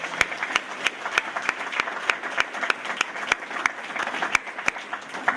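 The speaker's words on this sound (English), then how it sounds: "let's give all of you graduates a huge round of applause for everything that you've done" An audience claps for graduates at a school graduation ceremony, steady dense applause with sharp individual claps standing out, sustained and fairly loud throughout with no talking.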